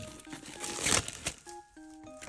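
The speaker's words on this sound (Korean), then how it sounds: "그러면 오늘의 메인인 이책 한번 뜯어볼게요." Plastic packaging around a thick sticker book is torn open and crinkled. Quick rustles and crackles rise to a burst of tearing, then settle into a few softer crinkles, all close and quiet, with no talking.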